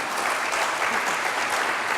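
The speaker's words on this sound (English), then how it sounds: "big round of applause for Pomeroy's." Dense, steady audience applause fills the room after a local business is thanked on stage at a morning community showcase, loud and continuous throughout with no voices on top.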